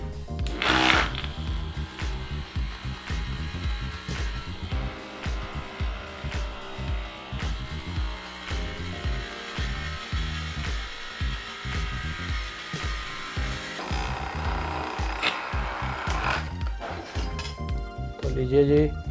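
A homemade 12V mini drill press driven by a 775 motor bores through a thick sheet, giving a whirring motor hum with grinding, rattling bursts and clinks up close.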